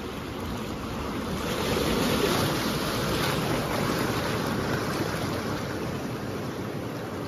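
Continuous ocean surf rushes and churns against a rocky shore in Batangas, Philippines, broad and loud, with wind buffeting the microphone and a swell building near the middle.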